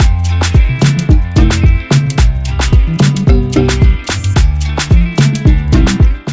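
Afrobeats beat made in FL Studio and professionally mixed, with a guitar melody over punchy drums and deep bass, playing loud and steady with a rhythmic pulse throughout, no voices.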